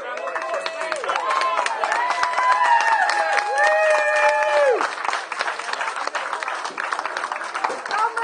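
Wedding guests applaud, steady clapping building for several seconds before fading, with a person speaking and a sung or whistled melody rising over the crowd.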